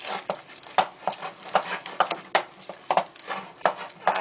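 Egg is beaten into cream puff dough in a pot with a spoon, giving a steady run of wet, sticky slaps and thumps at an uneven rhythm, close and clear with no voice over it.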